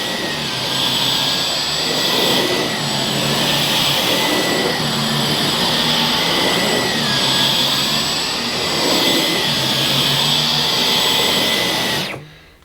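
A Dyson Digital Slim cordless vacuum cleaner running on eco mode, a loud, steady, close motor whine with slight swells as it is pushed, cutting off abruptly at the end, no talking.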